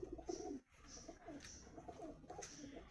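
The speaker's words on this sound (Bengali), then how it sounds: "এ হচ্ছে আমার সমস্ত পায়রা।" Madras breeding pigeons coo softly in a breeding cage, a steady run of low, repeated throaty calls with faint higher chirps, close by and with no talk.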